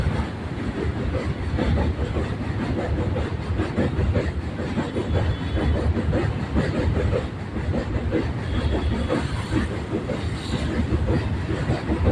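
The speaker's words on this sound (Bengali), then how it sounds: "মালগাড়ি বেরিয়ে গেল" A freight train rumbles steadily across the Vivekananda Setu bridge near Dakshineswar, with continuous loud rolling, clattering wheels and rail noise throughout, and no voices.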